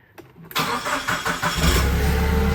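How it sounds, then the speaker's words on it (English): A propane-powered forklift engine cranks briefly and then catches, settling into a loud, steady idle close by, with no talk over it. "Start your engine."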